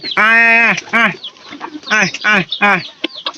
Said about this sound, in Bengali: এই মুরগির বাচ্চাগুলা